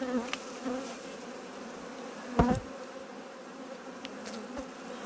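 Honeybees buzz in a steady, close drone with occasional knocks and clicks as a colony is moved into a new hive box, no voices present.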